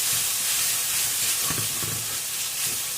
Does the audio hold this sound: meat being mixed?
yes